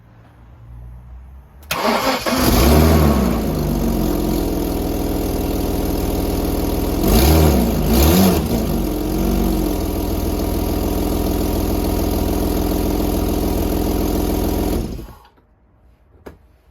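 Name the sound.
Jaguar X300 XJ6 engine starting and running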